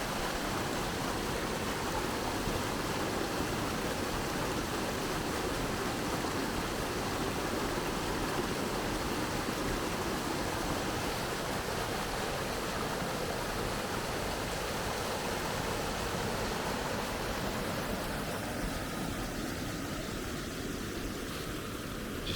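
Small Cotswolds stream at the very start of the River Coln, flowing in a steady, close rushing wash of water that stays constant and alone for the whole stretch.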